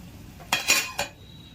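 A metal lid goes onto a pot of cooking tinda patra vegetable, giving a quick cluster of three bright clanks and clinks at close range, then a quiet kitchen background.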